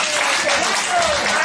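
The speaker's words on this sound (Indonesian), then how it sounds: "Tepuk tangan." Applause at a family New Year's gathering, a continuous bright patter of many hands clapping, with voices calling over it.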